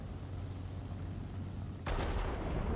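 A plane is destroyed and falls in the combat flight game World of Warplanes, a steady engine drone followed by a sudden loud boom of an explosion near the end.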